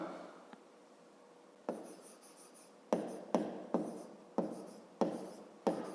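Hand writing during a fifth-grade math lesson, a close, soft series of scratchy pen or chalk strokes that come in short regular bursts after a quiet start.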